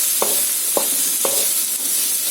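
Three colours of capsicum sauté in a hot pan with a constant bright sizzle, broken by three evenly spaced scraping stirs of a spatula.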